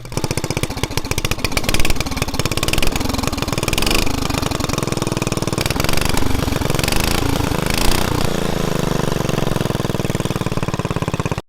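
A homemade, grungy DIY motorcycle's small engine runs steadily after being pull-started, a loud, continuous rapid putter with a few slight rev swells and no talking.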